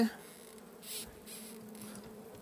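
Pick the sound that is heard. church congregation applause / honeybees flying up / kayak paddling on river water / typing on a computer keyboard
honeybees flying up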